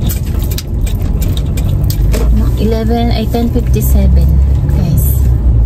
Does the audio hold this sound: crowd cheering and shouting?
no